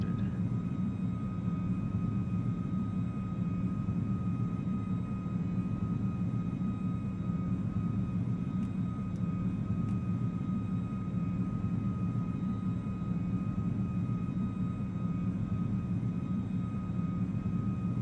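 An aircraft engine runs after starting in Microsoft Flight Simulator 2024, a steady, even droning hum that holds constant throughout with no talking.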